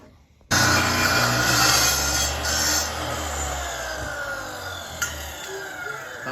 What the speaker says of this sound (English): I sure hope you know what you're doing with that saw.